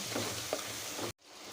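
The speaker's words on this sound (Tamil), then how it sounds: "இது நல்லா வதக்கிக்கலாம் உப்பு போட்டு வதக்குங்க" Tomatoes sautéing with salt in a pan, a steady close sizzle with a faint stir that cuts off abruptly near the end, then a quieter sizzle resumes.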